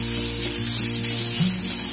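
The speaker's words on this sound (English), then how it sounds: "Keep on stirring it till it turns" Prawn sukka masala sizzles and fries steadily in a pan while being stirred, a loud continuous hiss with faint scraping throughout.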